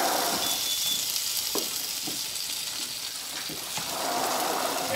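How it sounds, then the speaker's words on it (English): Bacon renders in a pan with a steady, fairly quiet sizzle and crackle, broken by a few soft clicks and pops. "render our bacon down."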